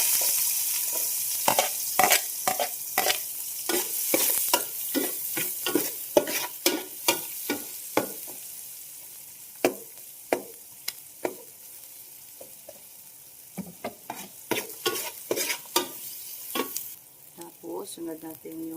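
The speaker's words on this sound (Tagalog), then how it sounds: "Dito na rin tayo magigisa. Sibuyas." Onion sautés in a hot pan, giving a steady low sizzle under frequent sharp clicks and scrapes of a utensil stirring against the metal, close and moderately loud.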